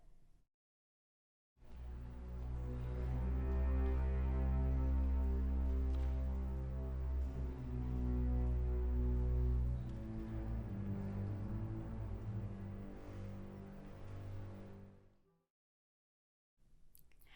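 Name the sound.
Rachmaninoff symphony motto theme played by low strings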